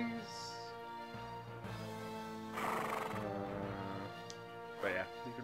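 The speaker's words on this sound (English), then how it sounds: "I love the horse noise" A horse neighs in the PS1 game Equestrian Showcase. The long whinny rises and falls, with sharp, loud peaks near the middle and end, over a steady, dense game background.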